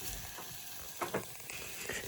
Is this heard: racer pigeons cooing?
no